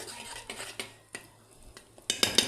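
Spices and chili being stirred in a pan for fried fish in sauce, heard as sparse, close scraping clinks of a utensil against metal, with a brighter clatter near the end.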